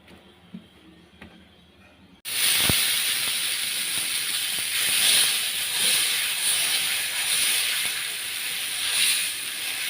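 Jowar (sorghum) dosa batter hits an oiled hot pan and breaks into a loud, steady, close sizzle after a couple of quiet seconds, then hisses on evenly with no talking.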